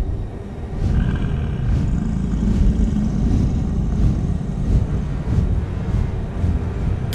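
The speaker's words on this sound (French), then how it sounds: "Un lourd vrombissement se fit d'abord entendre." A heavy, droning rumble effect in a French children's audio story, set during a snowstorm on a mountain: a loud, continuous low roar that swells slightly and holds steady, with no speech.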